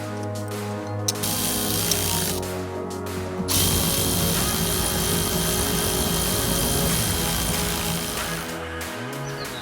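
Power drill driving screws during an overland truck build on a MAN 8.136, a loud, continuous buzzing motor whine running through nearly the whole stretch with brief changes in pitch and load.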